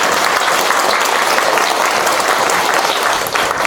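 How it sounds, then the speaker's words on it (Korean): A church congregation applauding during a Sunday family service at Immanuel Church: loud, dense clapping from a full room that fills the whole moment without a break. "전도사님 아버님이니까 그래도 박수 한번 쳐드려야 될 것 같아요."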